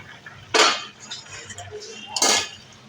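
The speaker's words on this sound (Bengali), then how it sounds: "ঢাকা খুলে দিচ্ছি।" A lid is lifted off a pot of simmering bitter gourd and potato curry, giving two distinct metallic clanks about a second and a half apart over quiet kitchen background.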